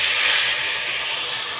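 A splash of water hits a hot cooking pan, bursting into a loud, steady hiss of steam and sizzle that stays close and slowly eases, with no talk.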